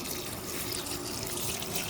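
Water running into a pot of jackfruit as it is set to cook, a steady close splashing stream from start to finish with no voices.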